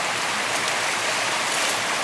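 Water poured from a gold pan to wash sand makes a steady, broad splashing rush, close and continuous.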